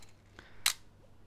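A Canon FTb QL manual film camera firing its shutter gives one short, crisp mechanical click near the mic, alone in a quiet room.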